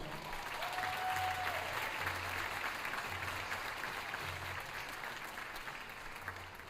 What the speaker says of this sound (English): you don't have to hold your applause